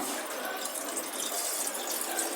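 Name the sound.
pouring water into a measuring cylinder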